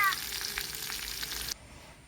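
Mustard seeds and crushed garlic frying in hot oil for a tempering give a bright, close sizzle with small crackles that cuts off abruptly after about a second and a half.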